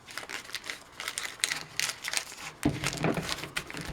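Paper is folded into a tongue fold on a hand-built firework shell insert, giving close, irregular crinkling and crumpling with a louder rustling burst near the end and no speech.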